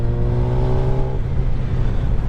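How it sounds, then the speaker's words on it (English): A Kawasaki ZX10R sport motorcycle engine with a Moore Mafia ECU flash, loud and close, droning steadily as a tone holds then drops away on a downshift auto-blip. "downshifting and auto blipping was perfect on this bike from the factory"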